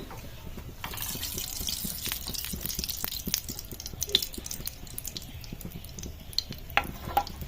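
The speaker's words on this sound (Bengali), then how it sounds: "ফ্রাই প্যান গরম হয়ে গেছে এবার আমি তেলটা দিয়ে দেবো" Hot oil sizzling in a heated frying pan while semolina (suji) pitha cakes fry, a steady close crackle with occasional sharp pops, no voices.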